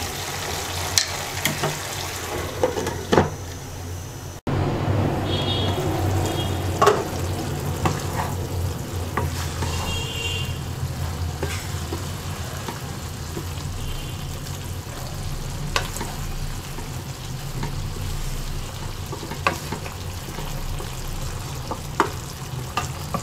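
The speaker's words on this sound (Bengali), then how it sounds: "এবার আমরা চুলার আঁচ মিডিয়াম লোতে রেখে সবজিটা সিদ্ধ হওয়া পর্যন্ত রান্না করব" Vegetables simmering in their own released water in a pan over medium-low heat, giving a steady soft bubbling sizzle with occasional stirring scrapes and clinks, close and continuous with no talking.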